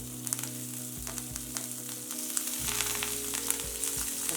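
Curry leaves with cumin, chana dal and green chilli crackle and sizzle in hot oil for masala bun dosa, a steady close frying hiss with small pops and occasional stirring, no speech.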